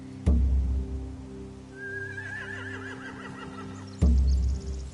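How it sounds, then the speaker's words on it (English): A horse neighs with a rising, wavering whinny in The Walking Dead video game, set against a steady low hum with two heavy thumps before and after. "Scare the horses, too."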